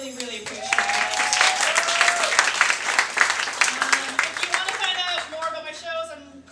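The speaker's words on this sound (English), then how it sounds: "Round of applause" An audience at a live evening of comic readings breaks into sustained applause, a dense wash of clapping that swells and then fades, with a speaker's voice talking over it throughout.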